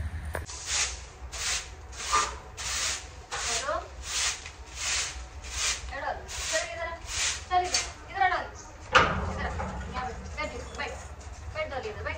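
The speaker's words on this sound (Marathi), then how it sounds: "झाडू मारून घेतलंय, सगळं चकाचक केलंय बघा इकडे।" A broom sweeps a floor indoors in quick, repeated rhythmic strokes, close and fairly loud, with a few irregular scrapes toward the end. Someone talks over part of the sweeping.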